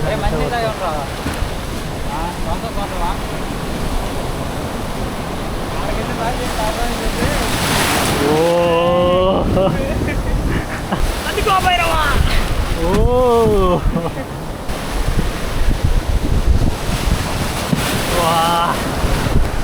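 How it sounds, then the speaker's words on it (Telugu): Ocean waves slap against a small fishing boat on rough sea while steady wind roars across the microphone, with loud water rushing throughout and a few brief voices breaking through. "అలలు తాకిడి కూడా ఎక్కువ అయ్యింది"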